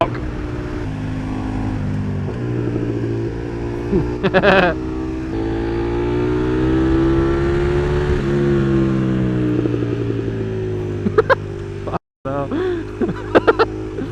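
A KTM 1390 Super Duke R Evo motorcycle engine is heard while riding on the road, droning loudly with pitch rising and falling as the rider downshifts for a corner, blips punctuating the run and a brief cutout near the end.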